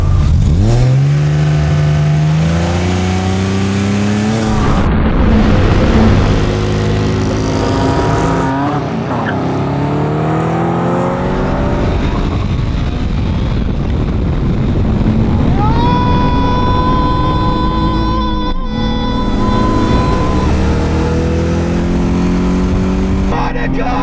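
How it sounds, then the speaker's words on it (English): A BMW E30 fitted with a V8 and an S50-engined car race each other in a drag race, engines revving hard and climbing through gears with loud, sustained roars and gear-change dips, some tire noise, close to the microphone. "So we're gonna have a drag race"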